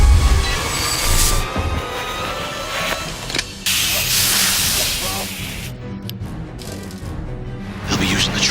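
A monorail train runs loudly beneath a city, a dense rumbling roar with rattling, clacking and metallic squeals throughout, mixed with dramatic film sound effects.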